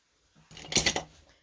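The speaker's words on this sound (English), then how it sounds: "we will grab my ribbon scissors and just trim that up" Ribbon scissors trimming the end of a ribbon on a handmade Stampin' Up card, a short crisp snip or two of blades closing, close and quiet with no talking.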